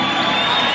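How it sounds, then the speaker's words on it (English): A boxing crowd cheers and applauds for a fighter, a loud, dense roar of voices and clapping that fills the venue for a brief moment. "Ladies and gentlemen, big round of applause for Ronald Weaver."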